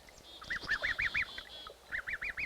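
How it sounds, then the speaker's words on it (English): Newly hatched goslings hidden in tall weeds give high, rising peeps in quick rhythmic bursts, two runs of calls separated by a brief pause, fairly close and clear. "Goslings newly hatched, down barely dry, seeking refuge in the tall weeds."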